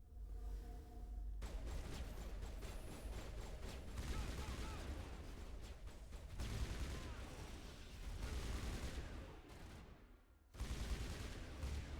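Sustained gunfire rattles through a firefight in Mass Effect, dense bursts of shots and impacts running almost continuously, briefly dropping out before a final loud burst; voices are faint or absent beneath the barrage.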